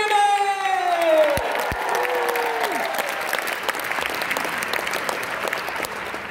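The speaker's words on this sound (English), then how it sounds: "So please give them a big old round of applause." Audience applause and cheering in a high school venue for a co-ed a cappella group at an ICCA Midwest Quarterfinal, a sustained dense wash of clapping after a host's voice fades at the start.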